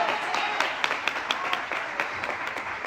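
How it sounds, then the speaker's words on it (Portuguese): A church congregation applauds during a service, a bright, sustained patter of many hands clapping with a few sharper individual claps standing out near the front. "aplaudir ao Senhor por essa palavra."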